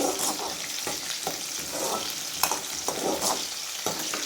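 Small onions sautéing in a pan for tomato chutney, a continuous sizzle broken by regular scraping stirs about every half second, close and fairly loud with no talking.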